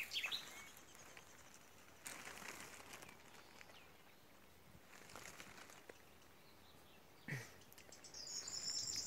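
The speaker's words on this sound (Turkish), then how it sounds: "Kuşlar çok güzel ötüyorlar." Birds sing faintly in village countryside near cherry orchards, with scattered short calls and chirps over a quiet outdoor background, a brighter burst of song near the end.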